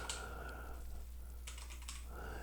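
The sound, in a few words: typing an access code on a computer keyboard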